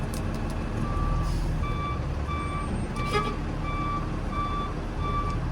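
A backing truck's reversing alarm beeps in a steady, evenly spaced series over a constant engine rumble and outdoor noise, near and moderately loud, with no talking.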